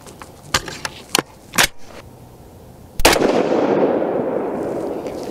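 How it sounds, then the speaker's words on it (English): A 22 ARC rifle fires a 62-grain ELD-VT load over 27 grains of Varget at a range, one sharp loud report followed by a long rolling echo, preceded by a few clicks of handling. "Next up, we got 27 grains of Varget, and we're gonna be shooting at the bottom of the center diamond"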